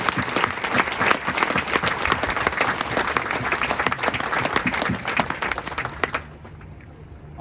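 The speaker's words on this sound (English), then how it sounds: "please join me in a well-deserved round of applause for the drill instructors and families of Charlie Company" Applause from a large crowd at a Marine recruit graduation in San Diego honouring Charlie Company's drill instructors and families, loud, steady and dense, then cutting off abruptly near the end.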